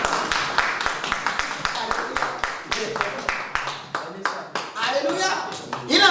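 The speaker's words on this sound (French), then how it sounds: "Acclamez pour les gens comme ça" A church congregation applauding at a sermon: brisk, evenly spaced claps close at hand, fading and returning in bursts, with voices cheering and talking over them.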